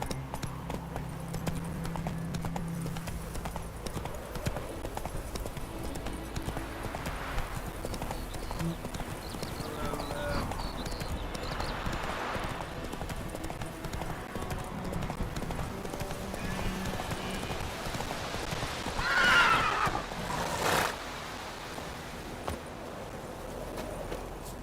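Horse hooves clopping at a steady gait in The Witcher 3, an even rhythmic clip-clop throughout with a brief whinny near the end over a low ambient game background.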